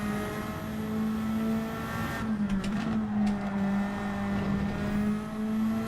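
McLaren race car engine in Gran Turismo 7, a steady sustained drone holding near-constant revs with a slight dip and recovery, loud and alone.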